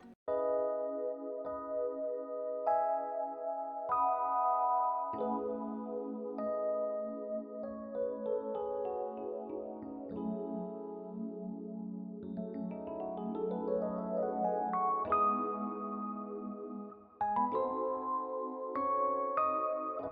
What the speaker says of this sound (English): It's gonna make the piano sound even fuller and just more lushful.